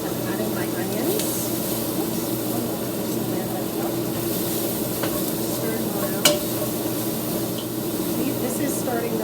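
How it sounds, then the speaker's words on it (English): Onions tipped into a hot pan just after seared beef was removed, for a beef stew: a steady, close sizzle and hiss with one sharp clatter partway through. "I'm adding my onions"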